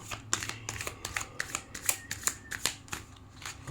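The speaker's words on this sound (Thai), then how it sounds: "Random for you ให้ไพ่เราเลือกนะคะ" A deck of tarot cards being shuffled close up, with quick repeated riffling bursts in an irregular rhythm, fairly quiet.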